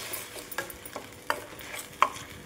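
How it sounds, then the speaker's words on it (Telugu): Tomato paste cooking in oil for tomato rasam, with a faint background sizzle broken by four or five soft scrapes of a spoon stirring at intervals. It is close but quiet, and no one speaks. "పేస్ట్ని 5 నిమిషాలు నూనెలో మగ్గించుకోవాలండి."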